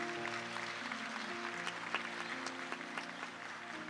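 A church congregation applauds during a sermon, a steady wash of many hands clapping over sustained organ or keyboard chords, moderately distant and continuous.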